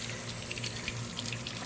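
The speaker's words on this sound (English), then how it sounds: "we're just going to go turn the water on, and we're going to do some flushing" Garden hose water running steadily at low level to flush the outboard motor of a Tracker Pro 170 boat, a continuous faint wash and trickle with no talk.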